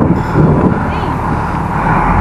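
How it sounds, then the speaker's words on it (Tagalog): Steady, loud wind buffeting close to the microphone outdoors in Japan, a continuous low rumble with no clear pauses. "Medyo malakas yung hangin ngayon ah"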